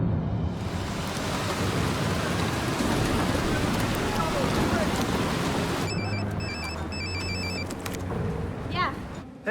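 A thunderstorm with heavy, steady rain pours loudly and continuously, a deep rumble underneath; partway through the downpour drops back and faint high tones and voices come in over the lingering rain.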